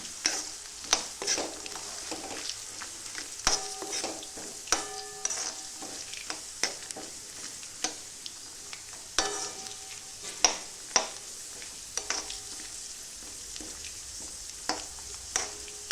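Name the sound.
peanuts frying in oil for sabudana khichdi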